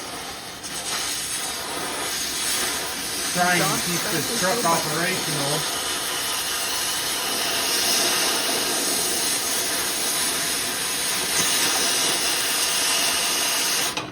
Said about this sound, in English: So I'm cutting the exhaust brackets.